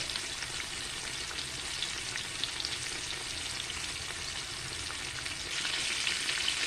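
Chicken fried chicken cooks in a skillet with a steady, close sizzle of hot fat and a faint crackle throughout, with no voices.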